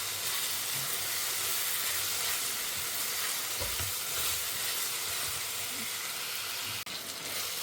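Vegetables with salt sauté in a pan, a steady broad sizzle running throughout with faint stirring scrapes, close and even in level, with a brief dip near the end.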